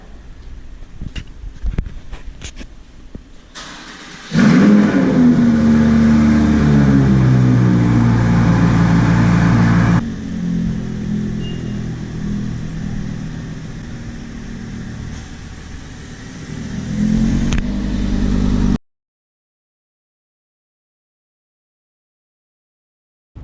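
A Honda NSX sports car pulling away, its engine note rising sharply in a loud revving sweep, then easing into a steadier drone that fades before a final surge and abrupt cutoff.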